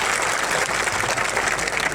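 Applause from a crowd of thousands at an outdoor political rally in Gujarat, a dense, steady wash of clapping that holds for about two seconds with no voices.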